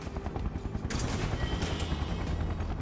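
A helicopter hovers overhead in Final Fantasy 7 Remake, a steady dense rumble and rotor chop under busy game noise with sharp bursts that sound like gunfire, loud and continuous for the whole stretch.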